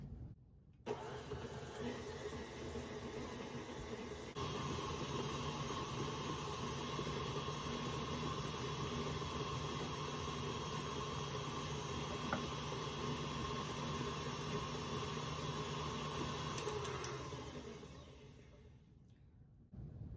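An electric mixer beats room-temperature butter with three-quarters of a cup of sugar for Lebkuchen dough, a steady, close motor whir that runs for about sixteen seconds before it winds down and stops.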